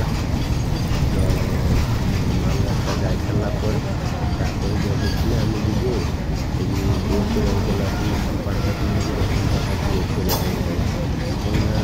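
A loud, continuous rumble of a train rolling past up close at a level crossing, with voices talking over the steady clatter.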